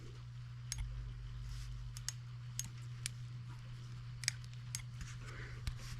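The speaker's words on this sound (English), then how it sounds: "can you guys hear the valve train clicking?" Faint, irregular ticking from the valve train of an M14 twin-cylinder tractor engine, light clicks scattered over a low, steady engine hum.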